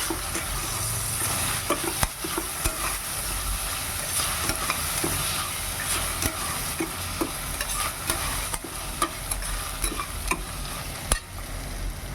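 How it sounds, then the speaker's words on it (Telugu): Bagara rice frying in a pot as fresh coriander and mint are stirred through it: continuous crackling sizzle with a regular run of spoon scrapes and knocks, close and fairly loud, no voices. "ఇప్పుడు దానిలో కొత్తిమీర, పుదీనా ఇప్పుడు తీసుకొని వేసుకొని బాగా కలుపుకోవాలి"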